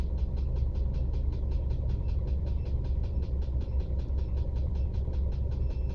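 A car engine runs steadily while parking in a garage, a low continuous rumble with a faint rapid rhythmic ticking or beeping pulse above it, even and close, with no speech.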